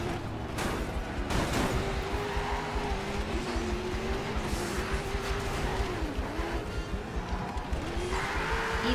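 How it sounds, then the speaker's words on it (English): A car engine hums and revs steadily with a wavering pitch, close and continuous, over busy background noise with sharp crackles. "I hear, like, a good car."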